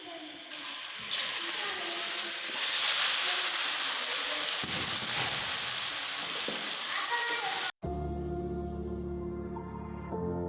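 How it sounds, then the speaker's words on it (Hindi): Marinated chicken hits hot oil with cumin and sizzles loudly and steadily, with stirring through the fry before a sudden cut to quieter kitchen sound. "अब इसमें हम ये अपना चिकन जो मैरिनेट करके रखा हुआ था ये ऐड करते हैं।"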